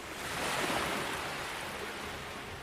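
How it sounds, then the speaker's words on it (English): A loud, continuous roar of surging sea waves, broad and rushing, with no gaps or voices. "The sea roared louder."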